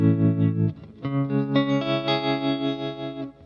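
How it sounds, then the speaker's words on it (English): A guitar runs through a pedal emulating the tube bias tremolo of a 1963 Fender amp, its sustained, slightly overdriven notes throbbing in volume with a steady pulse, played alone. "tube tremolo, which is like the bias tremolo from old Fender amps"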